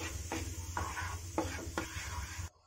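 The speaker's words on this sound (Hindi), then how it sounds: "बेसन को अच्छे से भून लेते हैं।" Gram flour roasting in ghee in a pan for peanut jaggery halwa, a spoon scraping and stirring in several distinct strokes over a low steady sizzle, close and moderately quiet, ending in sudden silence.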